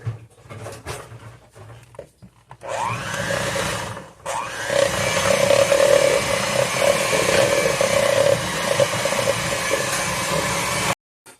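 An electric mixer whirs steadily for several seconds while whipping chocolate buttercream frosting in a home kitchen, with a faint start, a brief pause, then a loud continuous drone that cuts off abruptly.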